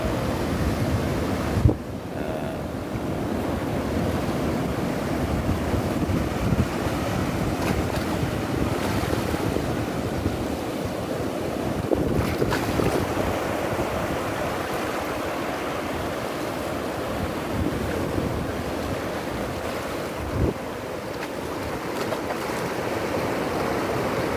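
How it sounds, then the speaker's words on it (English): Ocean surf rolls and breaks continuously in a bay at St Mikes, a steady broadband wash with occasional louder crashes, mixed with wind buffeting the microphone and no talking. "For the next set of waves to come in."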